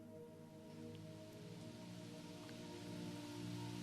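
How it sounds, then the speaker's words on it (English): Steady rain falls throughout, a soft, even wash of drops on a surface, quiet and continuous with no voices, beneath a faint low hum. "Listen to the rain."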